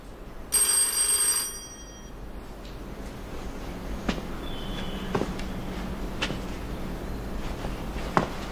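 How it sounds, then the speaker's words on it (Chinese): A telephone bell rings loudly in one burst of about a second, then a quiet room follows with a few soft knocks and footsteps, in a period drama setting. "我去接个电话。"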